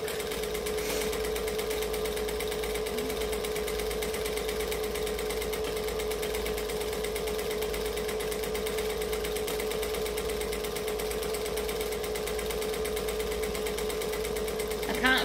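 A sewing machine stitches vinyl for a backpack at a moderate, even pace, a steady rapid mechanical chatter that carries on without a break, with a person speaking over it.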